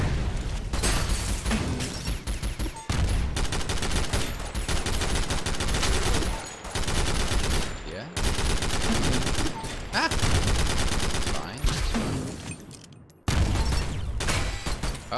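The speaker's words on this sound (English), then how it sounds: "This gun fires just absolutely wildly." Rapid, wild automatic gunfire from a gun in the video game Synthetik, loud dense bursts of shots with only brief gaps, sustained throughout.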